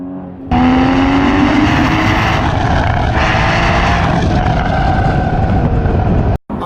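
A Porsche Boxster GTS with its mid-mounted engine accelerates hard from a standstill, the loud engine note climbing steadily through the revs, then cutting off abruptly near the end.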